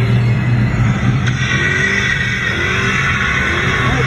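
Stick-shift cars accelerating hard at a car meet, a loud continuous engine roar and rumble with rising revs, close and steady throughout with no talking.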